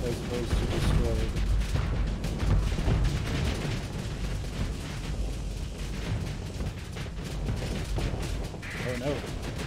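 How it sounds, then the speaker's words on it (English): Frigate taking fire in the space combat game Starsector, a dense, continuous barrage of booming impacts and rattling gunfire with low rumbling explosions, loud throughout, with talk over it. "Frigate getting shot."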